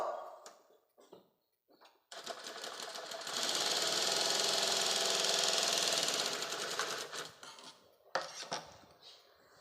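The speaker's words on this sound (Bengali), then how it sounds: "এভাবে যে মুখে মুখে আবার একটি সেলাই মারবো" Sewing machine stitching a patiala salwar, a close rapid mechanical whirring run of several seconds framed by brief clicks and handling noises before and after.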